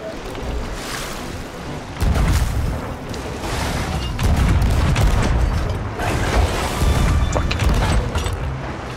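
Heavy booming blasts from ship cannons in the pirate game Sea of Thieves, several loud thuds repeating over rolling ocean waves and wind during a naval battle.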